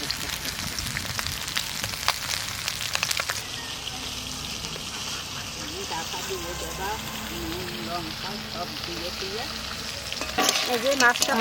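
Climbing perch (koi fish) fries in a kadai for a curry with cucumber, a steady crackling sizzle with stirring scrapes, while a voice speaks over the frying in the middle stretch.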